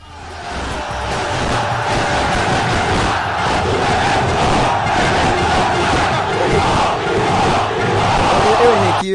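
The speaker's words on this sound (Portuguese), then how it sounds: "eu acabei colocando a música da torcida do esporte aqui" Brazilian football club supporters chanting together in a loud, dense crowd song with rhythmic shouting, steady and sustained throughout.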